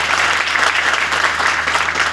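An audience claps loudly and steadily at a live gathering, a dense sustained round of applause with no voices over it.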